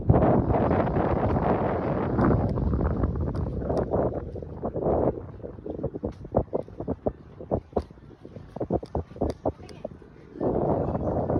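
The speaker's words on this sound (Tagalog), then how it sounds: "Sarap na mahangin dito." Strong wind buffets the microphone in loud gusts, with people talking intermittently over it.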